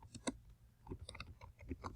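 Someone types on a computer keyboard, producing faint irregular clicks and taps at close range, with no one speaking.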